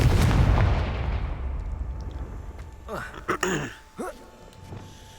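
A Confringo spell explosion in Hogwarts Legacy: a loud booming blast that rumbles and fades over a couple of seconds, followed by a character's short vocal grunts and effort sounds.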